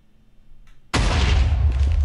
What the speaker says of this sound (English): Don't mind the explosions.